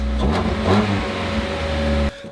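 A rear-wheel-drive JDM car engine revs loudly through its exhaust, a deep throaty rumble rising and settling, then cutting off abruptly at the end.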